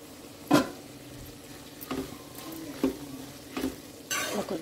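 Food fries gently in oil in a pan, a faint low sizzle broken by several distinct stirring scrapes and clinks of a utensil against the pan.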